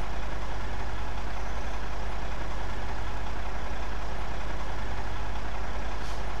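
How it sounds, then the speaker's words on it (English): Trucks drive onto a bridge in the video game Bridge Constructor, a steady, loud low engine rumble that runs throughout without any break. "Bring on the trucks."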